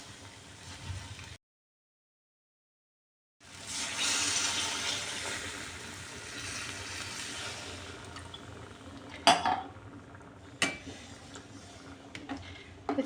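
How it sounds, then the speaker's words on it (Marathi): About a glass of water pours into a pot of cooked spinach, a steady splashing rush that starts after a short silence and runs on, with a few sharp knocks near the end. "आता आपल्याला ह्याच्यामध्ये थोडंसं पाणी ॲड करायचं आहे."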